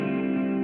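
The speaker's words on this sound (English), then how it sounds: "if I turn off any reverb and just give you a delay" An electric guitar runs through a stereo delay with no reverb, holding one sustained chord that rings steadily, close and clear, with no talking.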